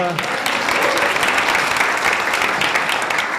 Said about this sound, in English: Let her have a round of applause.